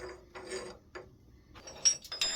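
Small metallic clicks and ratcheting scrapes come in short, close bursts as a grub screw and locking nut are worked loose on an old DSG lathe spindle, quiet and without speech.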